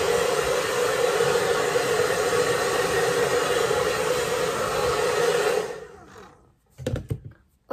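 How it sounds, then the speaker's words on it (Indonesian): A hair dryer blows on long hair in a steady, loud, close whooshing roar for several seconds before switching off, followed by brief faint handling knocks. "aku pakai hair dryer"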